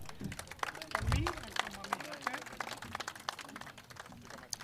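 Scattered clapping from the audience at a closing ceremony for Markazi Jamatul Muslimeen, Murdeshwar, with a brief burst of applause under ongoing talk and crowd murmur.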